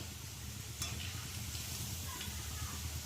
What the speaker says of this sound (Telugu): ఇలా ఎర్రగా బాగా క్రిస్పీగా వేపుకోవాలి